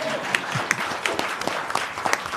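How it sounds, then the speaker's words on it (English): Audience members at a Modesto city council meeting applaud, a scattered, moderately loud patter of clapping hands with sharper individual claps standing out. "Let's applaud him."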